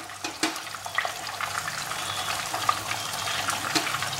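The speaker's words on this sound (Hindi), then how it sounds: "अब इसके अंदर हम अपने हिसाब से पानी मिलाएंगे।" Roughly 200 to 250 ml of water is poured into a fish masala of Bengali fish cooked in mustard oil, a close, continuous splashing pour over faint sizzling.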